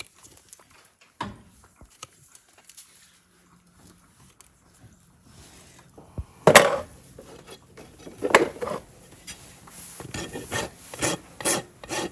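A horse's hoof being trimmed with a rasp, sparse at first, then repeated rough scraping strokes in uneven bursts, close and fairly loud, no talk.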